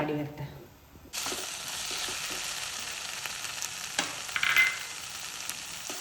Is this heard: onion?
yes